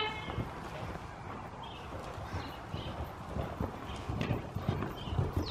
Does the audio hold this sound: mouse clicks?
no